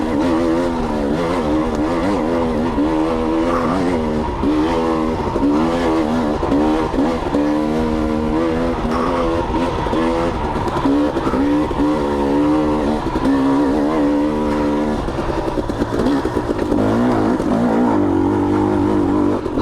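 A sprint car engine roars loudly and continuously on a dirt track, with its pitch rising and falling as the car laps and the driver works the throttle.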